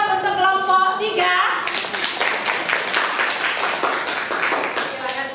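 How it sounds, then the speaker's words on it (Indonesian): A class claps for a student group that has just finished presenting, several hands patting in a steady, moderately loud patter that runs for several seconds after a brief spoken line. "Sekali lagi aplaus untuk kelompok 3."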